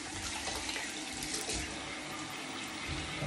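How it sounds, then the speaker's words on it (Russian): Water runs steadily from a tap while hands are washed with soap, a constant close hiss of flowing water with slight splashing changes, no voices. "Открываю кран. Я мою руки с мылом."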